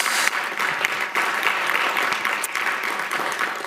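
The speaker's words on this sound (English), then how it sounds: "I think a round of applause on that." Audience at a school board meeting claps in a steady, sustained round of applause that stays fairly loud and dense throughout, with no talking over it.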